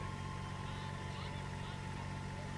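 A pulling tractor's engine at a tractor pull event drones steadily and loudly throughout, a continuous low mechanical hum with no breaks.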